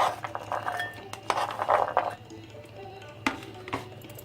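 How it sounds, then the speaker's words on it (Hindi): Chopped amla pieces clink into a bowl in a home kitchen, a few light, close taps and rattles in short bursts, with quiet pauses between. "अब इसे हम बाउल में डालेंगे।"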